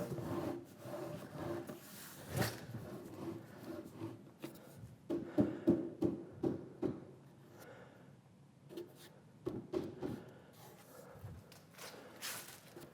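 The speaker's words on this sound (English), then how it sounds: "Butt it up and rub it." Rubbing of a glued wood joint on a workbench, the two pieces pushed together and worked back and forth: a close, dry scraping rasp in uneven strokes with short bursts, heard alone.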